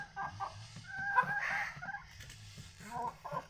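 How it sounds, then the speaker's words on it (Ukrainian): A few chickens feed and cluck softly at close range, making short, scattered calls and murmurs over a quiet background. "Тут курочки їдять."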